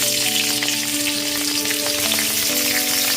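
Flat bean pieces frying in hot mustard oil over a medium flame, a loud dense sizzle with crackling spits, close and continuous.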